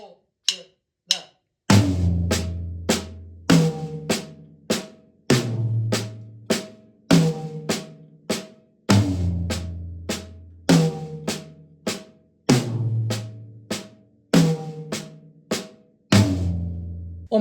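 Flam accents are played in triplets on a drum kit's snare and toms, moving floor tom, small tom, middle tom, small tom. Sharp, close strikes fall in a steady, evenly spaced rhythm with ringing decays, heard alone without speech.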